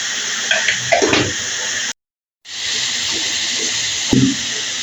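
Shredded cabbage with onion greens frying in a pan gives a steady, even sizzle and hiss close by, broken by a brief silence and a few stirring scrapes.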